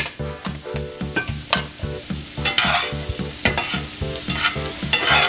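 Brussels sprouts and sweet potato sizzle and brown in a hot pan, loud and close. A steady frying hiss runs under rhythmic, repeated stirring scrapes, with a faint tonal backing and no voice.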